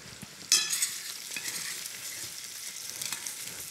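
Eel stews and sizzles in a pan for a Belgian eel poulette, a steady crackling fry with a sharp burst of sizzle early on as the pan is stirred, close up with no voices.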